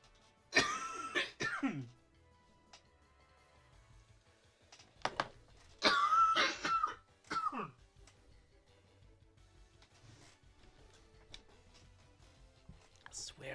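Several harsh coughs come in short bursts, one early fit and a louder cluster later, with quiet murmuring between them.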